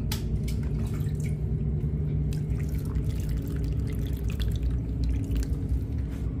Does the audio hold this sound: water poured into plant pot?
yes